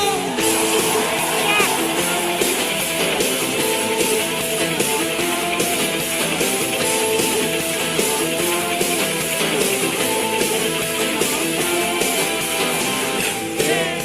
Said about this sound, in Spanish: Todo el que tenga un Dios poderoso de un grito de júbilo